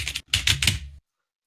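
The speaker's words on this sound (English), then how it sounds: "Keyboard smash." A computer keyboard smashed with rapid, clattering bursts of keys, close and loud, in three or four dense clusters over about a second before stopping dead into silence.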